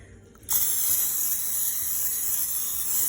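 A sudden sharp hiss of aerosol cooking spray into gingerbread baking molds starts after a brief quiet moment and continues steadily, close and loud.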